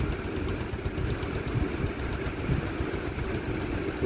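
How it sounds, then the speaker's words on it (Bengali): A trawler boat's engine chugs at low speed while docking, a steady, close, low rumble with a rapid throbbing pulse and no talk over it. "তাই আমাদের ট্রলারটা এখন ভিড়বে"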